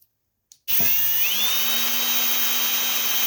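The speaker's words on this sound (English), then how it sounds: "when you're drilling through metal, it's good to put just a little bit of oil on the area that you're working on" A power drill bores a hole through a metal stovepipe, with a little oil on the spot, starting abruptly after a short click and then running as a steady, loud, high whine that shifts pitch slightly partway through.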